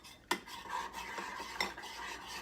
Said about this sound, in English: Make sure that your wet batter is all mixed up and incorporated together.